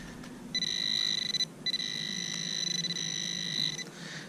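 A metal detector gives a steady electronic beeping tone outdoors while searching for an antique pocket watch, in two long sustained stretches broken by a brief gap, clear and fairly close with no talk.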